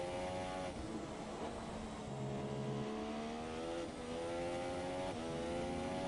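Formula 1 race car engine in the F1 2017 video game, a high-pitched whine that dips and climbs through quick gear changes, with a brief lower tone near the middle, continuous and fairly faint.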